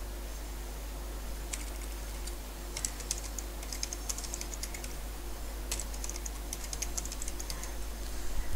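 Computer keyboard typing while a password is entered during a SharePoint 2019 installation, with irregular clusters of light clicks over a steady fan hum.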